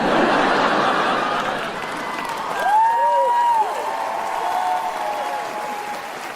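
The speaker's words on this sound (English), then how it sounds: "Thank you for clapping." A stand-up comedy audience bursts into sustained applause mixed with laughter and cheering after a joke, a dense steady wash of clapping close up, with a brief whoop rising in the middle.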